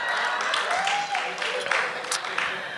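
Audience applause at a poetry book release event, a steady wash of clapping from a crowd with some vocal cheering mixed in, filling the room at moderate loudness throughout.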